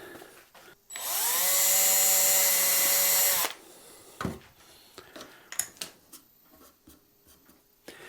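A power drill whines steadily for about three seconds, close up, drilling two holes in a guitar fretboard, then stops, followed by scattered clicks and light handling noises.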